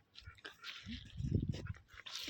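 A dog biting and chewing on a water tanker, heard close with wet gnawing and crunching in short bursts and some panting, while a person speaks over it.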